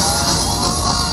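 A happy crowd celebrating Israel's 75th anniversary of independence, a dense, loud wash of cheering and shouting voices with no single voice standing out.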